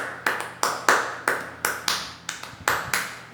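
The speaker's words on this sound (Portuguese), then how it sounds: "a palma" A single person claps their hands about ten times in a loose, uneven rhythm during a body-percussion music lesson, each clap sharp, close and clear with brief room decay, no talking.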